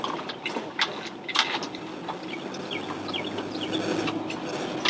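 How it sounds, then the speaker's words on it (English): Birds singing outdoors among trees and gardens at Botany Bay Plantation on Edisto Island, several faint chirps and whistles scattered over soft background noise, with no talking. "You can hear the birds singing."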